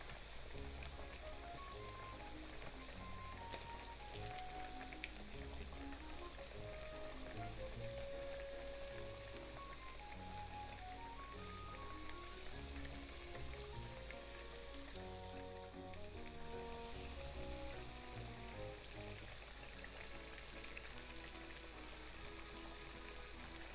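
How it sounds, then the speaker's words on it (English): Egg-free Japanese sweet potato tempura fries in oil with a continuous, faint sizzle and crackle, steady throughout under soft background music. "Fry them for 2 to 3 minutes."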